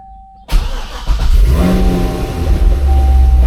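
A Corvette with a dry sump oil system fires up after a faint tone, its engine catching abruptly, then settling into a loud, steady rumbling idle up close.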